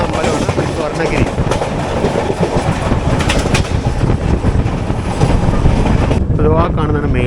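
Janmabhoomi Express (12805) running on rails as it joins the main line, with a continuous loud rumble and clatter of wheels on track, plus wind noise throughout.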